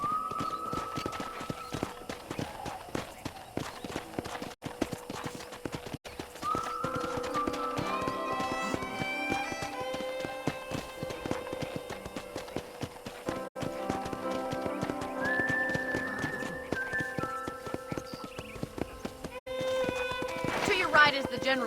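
Horse hooves clip-clop in a steady, close walking rhythm in the Western video game Red Dead, playing under tonal music and occasional talking, with a brief whinny near the end.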